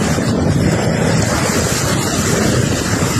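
Rough sea churning under a super typhoon: a continuous heavy roar of wind and surf buffeting the microphone, with no talk over it.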